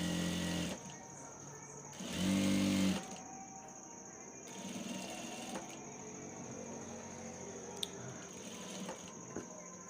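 A sewing machine stitches a front-fold men's kurta in two short, close, buzzing runs, the second one steadier, with quiet room sound between them.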